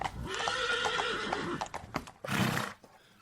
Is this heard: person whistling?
no